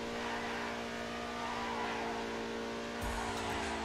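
Obey 10F, the Audi R8 of GTA Online, accelerating steadily with a loud sustained engine drone and a sharp rise in revs near the end, with no talking.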